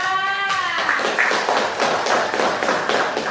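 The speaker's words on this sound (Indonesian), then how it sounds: "Tepuk tangan untuk kelompok 2." Classroom applause for a student group: a brief voice at the start, then a steady patter of many hands clapping for about three seconds, fairly loud and close.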